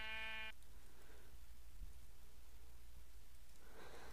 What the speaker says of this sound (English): I'm just using the sword to kill these sheep.